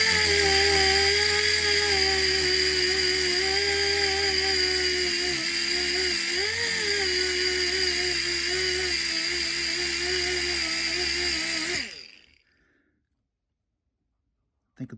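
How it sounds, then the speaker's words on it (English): A handheld air tool sands stainless steel trim with 800 grit paper, running as a steady, loud high-pitched whir for about twelve seconds before spinning down and stopping, leaving near silence. "The reason I'm using a higher grit on the air tool"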